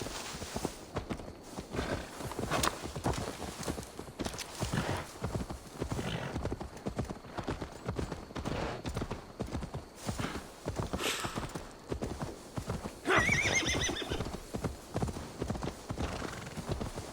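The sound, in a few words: horse hooves and neighing, from video game Assassin's Creed Valhalla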